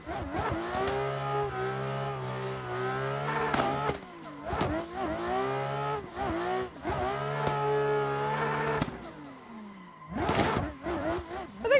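A loud race car engine in the racing game Assetto Corsa revs hard and climbs through gears, dropping and surging again repeatedly, with a brief pause before another sharp rev.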